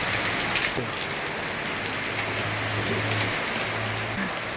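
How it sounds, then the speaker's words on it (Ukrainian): Steady rain falling on surfaces outdoors, a dense, even patter that stays moderately loud throughout, with a low rumble underneath and no voices. "Хай трошки помочиться дощику."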